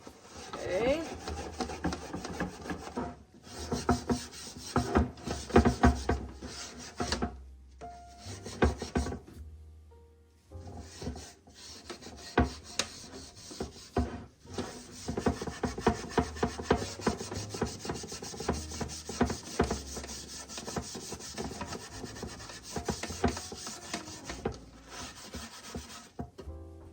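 Gritty scraping and rubbing as residue is worked off a dirty crockpot, coming in short, uneven strokes close by, with a couple of brief pauses between bursts.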